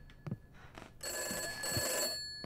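Telephone bell ringing in the indie horror game Summer of '58, a steady electronic ring lasting about a second and a half, preceded and followed by brief low thumps, with no talking.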